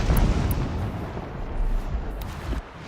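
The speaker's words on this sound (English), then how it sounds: "Explosions in the distance." Distant explosions rumble in Horizon Zero Dawn, a broad, continuous low roar with a few muffled booms rolling over roughly three seconds, no voices.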